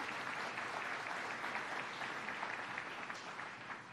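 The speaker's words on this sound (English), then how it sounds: "Let's give them a round of applause for the great work they do." Crowd applause at an outdoor I-81 highway groundbreaking ceremony, steady dense clapping from an audience, moderately distant and even for a few seconds without speech.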